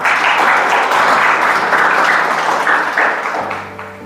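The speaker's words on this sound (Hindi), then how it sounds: "तालियों बजाकर स्वागत करें" Audience applause filling a college hall at the launch of a 12-day Devbhoomi entrepreneurship scheme, welcoming the principal and nodal officer; dense, steady clapping throughout that eases off slightly toward the end.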